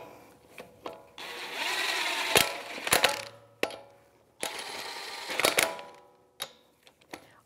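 Wheel lug nuts on a Toyota 4Runner front wheel are snugged up with a 21 mm socket, heard as short buzzing tool bursts of a second or two mixed with sharp clicks and metallic clinks, close and fairly quiet.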